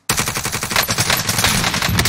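Gunfire in the video game Warzone: a rapid, loud burst of automatic shots that rattles on without pause for about two seconds after a sudden start.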